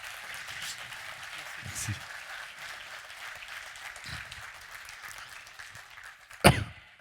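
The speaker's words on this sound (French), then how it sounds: "Applaudissements, il le mérite je crois." Steady, moderate applause from an audience in a council session hall runs under a few spoken words, ending with a sharp, loud knock or slam.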